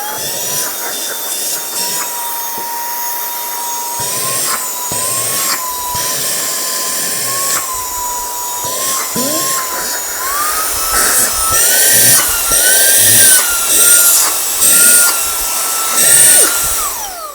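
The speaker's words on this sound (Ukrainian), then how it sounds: "це один з найпотужніших пилососів, які у нас були на огляді" An Aspiring Windstorm 3 12-volt car vacuum cleaner runs loudly with a high whine that shifts pitch as it rises and dips, with scraping and bumping as it works.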